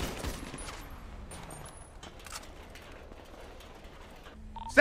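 Gunfire in a video game during a bank robbery at Legion Square: a few scattered sharp shots early, then quieter background clatter and a sudden loud burst at the end, with no talk.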